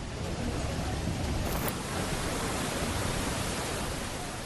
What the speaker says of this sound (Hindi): नदियां उफान पर, नाले गरज रहे।